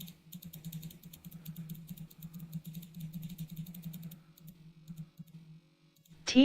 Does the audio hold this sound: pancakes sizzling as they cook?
no